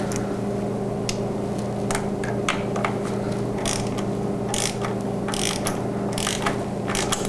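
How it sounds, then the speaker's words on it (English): A ratchet wrench clicks in quick bursts as it tightens an ignition coil bolt on a 2007 Toyota Sienna engine, the sharp pawl ticks coming close and loud over a steady low mechanical hum. "Align the bolt. And you don't really need to put too much torque on this."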